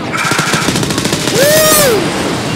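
Gunfire in the Wolfenstein: Youngblood video game, a fast rattling burst of automatic shots that runs the whole short stretch, while a voice cries out a drawn-out vocal shout over it.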